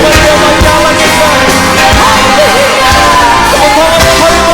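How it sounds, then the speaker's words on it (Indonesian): A church congregation at a Sunday worship service in Medan claps and cheers loudly and continuously, a dense wall of applause and voices mixed with music. "Tepuk tangan dan sorak-sorai yang paling meriah bagi Allah kita"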